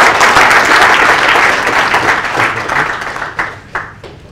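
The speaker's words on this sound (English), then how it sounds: "Let's give a hand of applause." Workshop audience at the close of a panel session applauding loudly and steadily, a dense wash of many hands that thins into a few scattered claps at the end.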